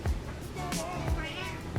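A house cat meows indoors in a few short, wavering calls, mixed in with a person talking nearby.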